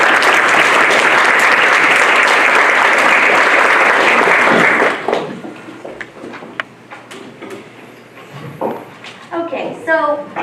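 An audience applauds panelists onto the stage at a film screening and panel discussion. Loud, dense clapping fills roughly the first five seconds, then fades to scattered claps, shuffling and room noise.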